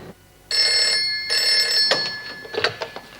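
Telephone ringing in a detention centre office: two loud electronic ring bursts in close succession, followed by faint shuffling and handling noises.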